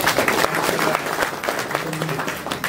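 Audience applause at a cooperative gathering and workshop in a hall, a steady wash of clapping from a crowd lasting throughout with a few voices mixed in.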